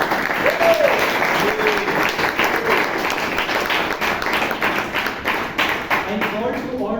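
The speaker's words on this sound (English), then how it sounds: "Can you give a round of applause for ourselves for being here?" Members of a Toastmasters club meeting in Bangalore clap together in a steady round of applause at moderate level, with scattered voices and a brief tone at the start.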